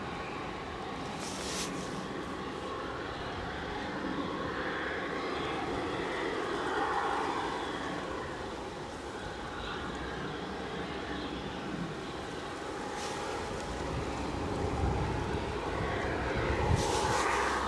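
An airliner departs Edinburgh airport bound for Stornoway, its engines a steady broad roar heard from a distance that swells slightly toward the end, with no talk over it.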